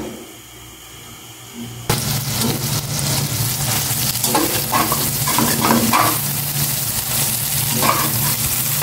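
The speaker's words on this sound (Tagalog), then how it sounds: "Siguro prito muna ako ng hotdog bago ako mag-fried rice." After a quiet moment, hotdogs drop into hot oil in a pan and a loud, steady sizzle of frying begins, with occasional stirring scrapes in the pan.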